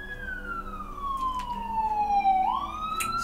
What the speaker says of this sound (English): An ambulance has just gone screaming past, you might have heard it, but it went screaming past slowly, screaming as in the sirens were going.